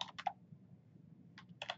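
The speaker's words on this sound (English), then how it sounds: "Once you start typing, it'll try to finish out what you're typing." Brief bursts of typing on a computer keyboard while configuring a network device, a short cluster of key clicks at the start and another near the end with a quiet pause between, close and moderately soft.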